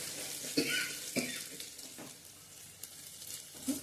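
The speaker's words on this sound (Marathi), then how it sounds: "कांदा छान गुलाबीसर रंगावर आपला भाजून झालेला आहे" Onions fry over a medium gas flame for tomato pulao, a soft hissing sizzle with a few spoon scrapes and light clinks, fairly quiet and without speech.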